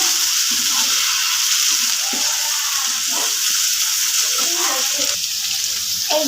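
Cumin, garlic paste and chilli paste stirred in hot oil give a steady, close sizzle and crackle of frying that runs continuously, with light scraping of the spoon under it.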